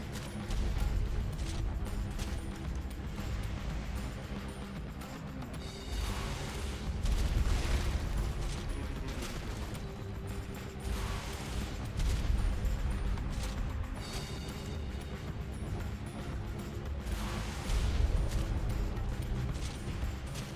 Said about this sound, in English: I finally get to use my rocket launcher!